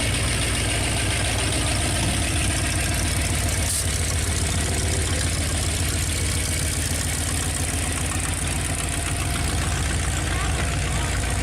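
A car engine idles steadily at a car show with a continuous low rumble throughout, loud and close, with a slight knock in its rhythm.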